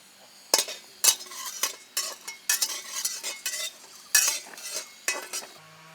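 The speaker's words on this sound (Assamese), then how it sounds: "এই জিৰাখিনি আমি এনেকৈ খুন্দাত আমি সুমাই লৈছোঁ" Roasted cumin pounded in a mortar outdoors while a meat curry is prepared: about a dozen sharp, irregular knocks and grinding taps, close and fairly crisp, with quiet pauses between strikes.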